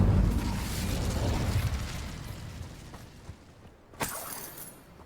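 The Incendio fire spell from Hogwarts Legacy bursts with a loud whooshing roar that fades over several seconds, followed by a sharp crackling pop near the end.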